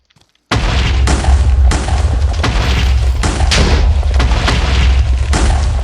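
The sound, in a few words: grenade explosions in Minecraft video game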